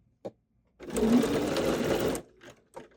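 A sewing machine with a gathering foot stitches gathers into fabric in one steady, close burst of about a second and a half, set between quiet clicks and handling noises.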